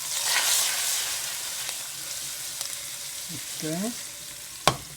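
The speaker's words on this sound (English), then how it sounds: "Okay, the garlic is changing color, so let's put the garlic. Okay, I'll add the garlic." Garlic sizzles steadily as it fries in a pan for ravioli with cherry tomatoes, a continuous bright hiss with a few soft stirring scrapes and clinks, a brief spoken word, and a sharp utensil knock near the end.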